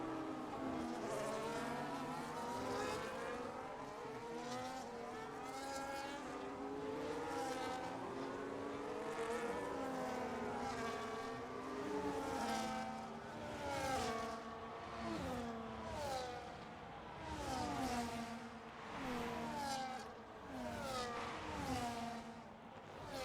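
Several race cars in an F1 racing video game scream around the Mexican Grand Prix track, with high engine whines rising and falling in sweeping pitch as cars pass and shift gears, overlapping continuously at moderate loudness.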